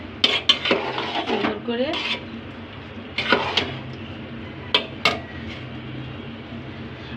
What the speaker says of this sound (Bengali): গাজরের পোলাও চালের সঙ্গে এখন মিশিয়ে নিব